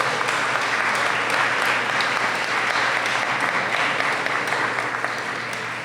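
A full room at a National Parents Day awards ceremony gives a couple a warm round of applause, the clapping dense, even and sustained throughout, easing slightly at the end.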